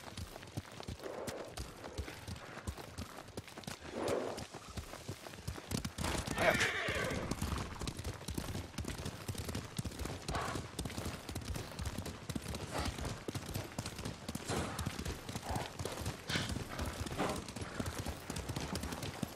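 Horses in the video game Ghost of Tsushima whinny and snort while hooves clop and shuffle, with the neighing loudest in the middle over a steady background of hoof and movement noise.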